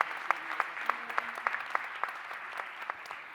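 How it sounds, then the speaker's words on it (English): Light, sparse applause at a community event, a small group giving a dozen or so distinct claps in a loose rhythm that fade quickly, with a faint voice underneath. "Good round of applause for Seema."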